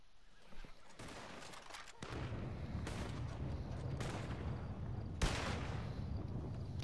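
Several sharp gunshots ring out in Red Dead Redemption 2, spaced a second or two apart, each followed by a rumbling outdoor tail, fairly faint in the mix with no talk.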